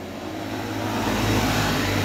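A motorcycle engine running rough and being revved, with oil spraying out near the cylinder head; a loud, steady, close drone holds for the whole stretch with no voices.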